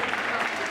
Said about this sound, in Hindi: एक बार तालियां बजा दो आप तो शुरुआत हो जाए।